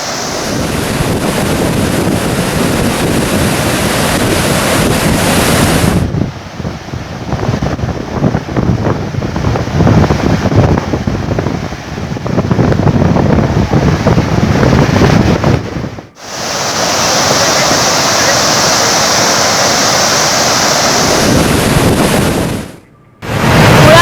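A loud, continuous roar of rushing, crashing water from monsoon waterfalls in the Bhandardara area, with wind buffeting the microphone and brief drops in level.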